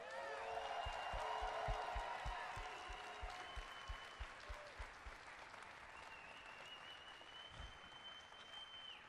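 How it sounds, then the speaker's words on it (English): A BlizzCon 2013 audience applauds steadily, a dense wash of clapping that gradually thins out, with a few louder claps and faint cheers near the end. "Could you guys do me a favor and give a big round of applause for Kent Eric Hagman?"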